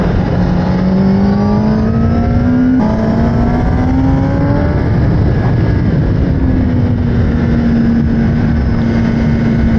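A Kawasaki ZX-10R 2024 sport motorcycle accelerates steadily on a wet road, pitch climbing through a gear, dropping and rising again, loud and close, with no talk.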